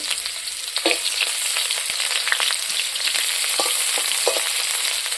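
Vegetables hitting hot oil in a wok, a bright, steady sizzle close up, with occasional crackles and spatters popping through as the food is stirred.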